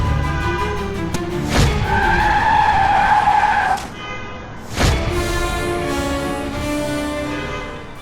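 A car skids to a sudden stop on a road, a loud, sustained tyre squeal lasting a couple of seconds over engine noise, followed by a thump and the idling motor.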